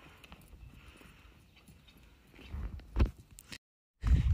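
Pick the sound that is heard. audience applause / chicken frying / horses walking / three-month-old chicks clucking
horses walking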